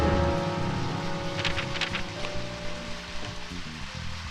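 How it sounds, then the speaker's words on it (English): Steady rain ambience from the video game Deadly Premonition, a constant patter over a low, sustained musical drone with a few brighter splashes in the middle. "The rain still sound effects still playing."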